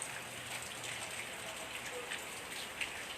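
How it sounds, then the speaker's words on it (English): Steady rain falling on a windy, cloudy morning in a quiet provincial neighborhood, a soft continuous patter with scattered nearby drops, moderately faint and alone without any talking. "It's raining,"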